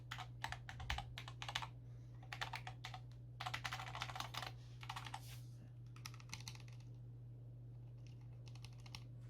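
Cooler Master SK620 60% low-profile mechanical keyboard with Cherry MX Low Profile switches, typed in quick bursts of crisp clacking keystrokes with short pauses, close and alone over a low steady hum.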